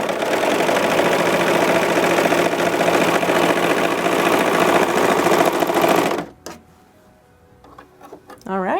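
A Bernette B64 Airlock overlocker stitches a 4-thread overlock serge, giving a loud, steady mechanical whir for about six seconds before stopping, followed by faint handling noises.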